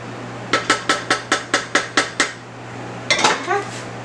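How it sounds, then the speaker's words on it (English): A metal spoon scrapes and clinks against a pot while serving stove-top pot roast, eight evenly spaced sharp knocks followed by a quick cluster of clatters, close and clear. "I'm just going to spoon some of the roast."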